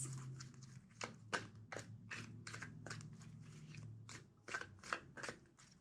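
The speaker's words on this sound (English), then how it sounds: "Two more shuffles." A deck of cards being shuffled several times, with quick riffling bursts and soft snaps repeating in a steady rhythm, close up and with no talking.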